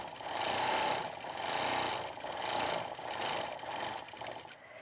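A sewing machine quilts along a seam into the next square with a steady, rapid stitching hum that pulses gently in loudness, fairly faint and heard alone.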